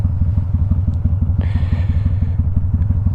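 Kawasaki Vulcan cruiser motorcycle riding along, its engine pulsing in a steady low rapid rhythm, close and loud throughout with a brief higher clatter partway through; no talking.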